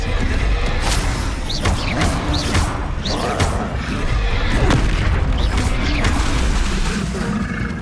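Confringo blasting spell explosions in Hogwarts Legacy, repeated booming bursts and crackling impacts amid constant battle noise and creature roars, loud and dense, with a voice talking over the fight.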